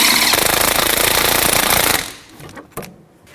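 A 3/8-inch impact gun hammers hub bolts home on a 2006-12 Toyota RAV4 front hub in a loud, rapid rattling burst of about two seconds, followed by a few faint clanks and quiet.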